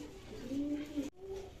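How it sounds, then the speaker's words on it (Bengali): A pair of Giribaz pigeons nesting on eggs gives a brief low coo, a short rolling call close by that cuts off abruptly, followed by a fainter second note. "এখানে একজোড়া গিরিবাজ কবুতর আপনার ডিম নিয়ে বসে আছে"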